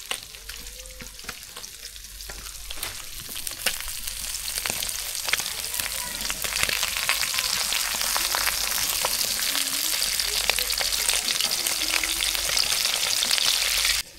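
Fish fries in hot oil in a pan, a steady close sizzle with scattered crackles and pops running throughout at moderate level.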